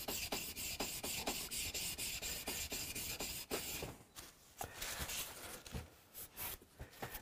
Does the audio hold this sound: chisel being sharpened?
yes